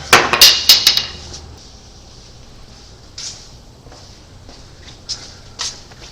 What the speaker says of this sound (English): We'll use a little bit bigger hammer, get the job done quicker.